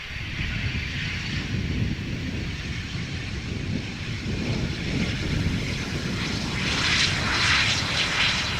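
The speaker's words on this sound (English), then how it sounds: "Embraer Phenom 300." An Embraer Phenom 300 business jet lands at Amsterdam Schiphol Airport, its engines a steady, fairly close roar with a broad low rumble that holds throughout and brightens with a hiss toward the end.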